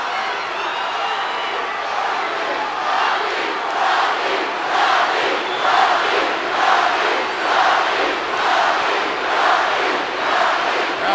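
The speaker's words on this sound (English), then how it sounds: "Crowd chanting for The Rock King," An arena crowd at a 2001 WWF RAW wrestling match chants for The Rock, a loud, steady roar swelling in rhythmic waves across the whole stretch.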